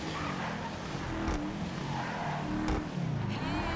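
Enus Paragon S car in GTA Online, a steady droning engine with shifting pitch and gear changes, constant and fairly loud throughout with no talk.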